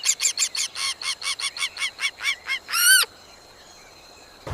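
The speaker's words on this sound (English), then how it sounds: "The song of an early bird breaks the morning silence." A bird calls at dawn in a prehistoric camp setting, a loud rapid series of about a dozen honking, goose-like notes followed by one longer drawn-out cry, then quiet.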